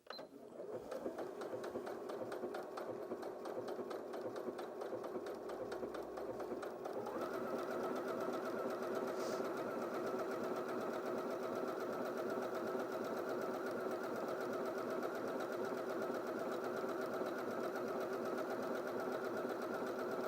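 A Janome DKS100 sewing machine runs a triple straight stitch with a slightly longer stitch length on stretchy fabric, a steady close mechanical whir with a fast rhythmic needle clatter that picks up and holds a busier pace partway through, with no talk.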